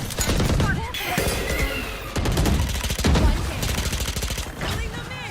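Rapid, loud gunfire from a Valorant match comes in dense bursts, overlapping game effects and voice chat.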